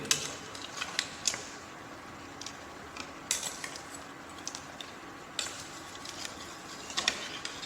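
Spoon clinks and scrapes against a pot while shallots and vegetables are stirred, a string of sharp metallic taps and knocks at irregular intervals over a quiet background.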